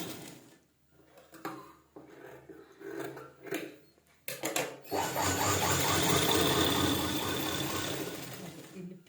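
A sewing machine runs a seam along a blouse lining strip, starting with a few short bursts and handling noises, then settling into a steady loud run of stitching for several seconds.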